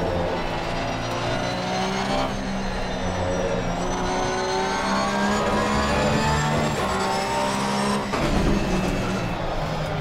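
2018 Porsche GT3R racing at Spa in Assetto Corsa Competizione, a loud, continuous engine wail climbing and dropping through gear shifts, close and alone.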